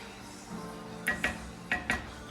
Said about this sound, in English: So I'm actually gonna put it in a plate or a bowl